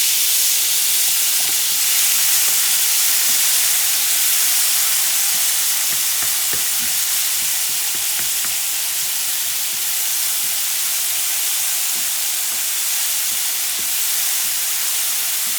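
Tomatoes frying for fideuà are stirred in a hot pan, giving a loud, steady sizzle and hiss with occasional soft scraping, heard alone for about fifteen seconds.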